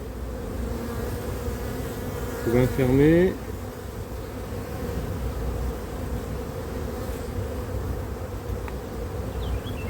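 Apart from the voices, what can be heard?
honey bees buzzing during hive inspection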